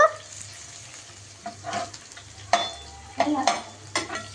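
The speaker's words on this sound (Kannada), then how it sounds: "ರೆಡ್ ಕಲರ್ ಆಗೋವರೆಗೂ ಫ್ರೈ ಮಾಡ್ಕೊಬೇಕು." Ingredients for mango rice frying in a pan until they turn red, with a steady low sizzle broken by several sharp bursts of spoon-on-pan stirring and scraping.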